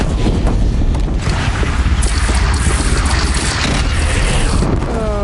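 A bridge shot down in Horizon Zero Dawn crumbles in a sustained, loud roar of rumbling debris and crashing impacts, continuous and dense throughout, with a faint tonal ring near the end.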